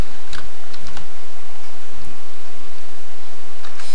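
Pascal code is typed on a computer keyboard, producing quick, close key clicks and taps in an irregular rhythm over a loud, constant background hiss, with no talking.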